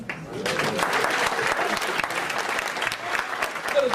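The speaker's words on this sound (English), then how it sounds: "Let us stand and give a brother a great round of applause" Lecture audience applauding steadily for the full stretch, a dense even clatter of many hands with a few faint voices mixed in.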